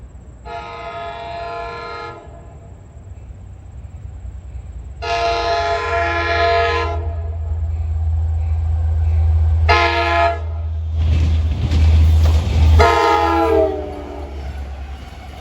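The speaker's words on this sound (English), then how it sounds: "approaching east at 6:40 is train 8774, route from Jamaica to Patchogue" Long Island Rail Road train 8774 from Jamaica to Patchogue approaching at a station in the evening, loud horn sounded in several long blasts over a steady rumble that swells as the train passes close by.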